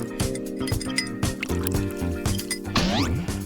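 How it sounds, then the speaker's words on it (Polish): Four spoonfuls of cold water are poured onto packaged gelatin powder, producing brief liquid splashes and dribbles over loud background music. "Teraz musimy dodać 4 łyżki zimnej wody."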